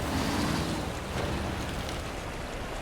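A truck in the video game Snow Runner ploughing through river water: a constant broadband wash of churning, splashing water with a low rumble beneath, steady and close, no voices.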